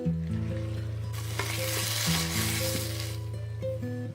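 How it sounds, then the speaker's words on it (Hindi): Chickpeas and chicken fry together in a pan with a steady, close sizzle and occasional stirring scrapes, while a low tonal hum of music runs beneath throughout. "चने डालने के बाद आपने चिकन के साथ इनको 1-2 मिनट अच्छे से भून लेना"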